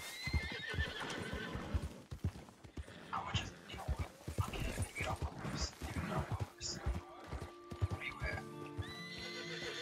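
A horse whinnies and its hooves clip-clop along with other game sounds in Red Dead Online, while people talk over it throughout.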